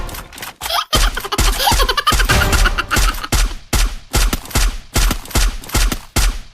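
SVD sniper rifle shots in a mobile shooter game, loud sharp cracks fired in quick repeated bursts, close and punchy, with brief gaps between volleys.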